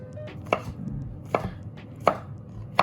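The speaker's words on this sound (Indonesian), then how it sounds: "Jadi kita potong jamurnya. Ya, jangan terlalu panjang, kita mau cacahin aja." Mushrooms are chopped finely on a cutting board with a knife, four crisp, evenly spaced chops ringing out close and clear with no talking.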